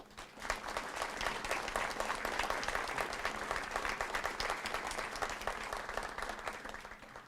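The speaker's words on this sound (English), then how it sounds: "Please give a round of applause for all of our distinguished guests." Sustained crowd applause for distinguished guests at a military change of command ceremony, dense steady clapping from many hands at moderate distance, no speech over it.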